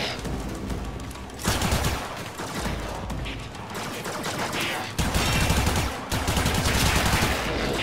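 Gunfire in Warframe, a sustained barrage of dense shots with brief pauses and renewed bursts, loud and up close amid game effects.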